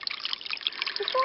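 Water trickling outdoors at a natural spot, a steady soft dribbling wash with no talk over it.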